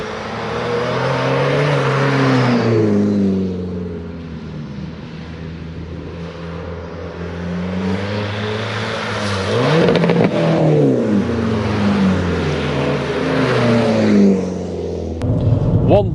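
A Mark 1 Skoda Fabia vRS drives and accelerates on narrow mid-Wales roads, its engine note climbing and falling through several gear changes, loud and steady throughout, with a brief clatter near the end.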